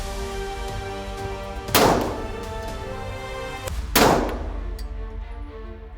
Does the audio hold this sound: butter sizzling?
no